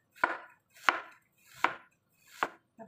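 A knife slices ginger thinly on a board for pickled radish, four crisp evenly spaced cuts up close, each followed by a short brushing scrape, with no talking.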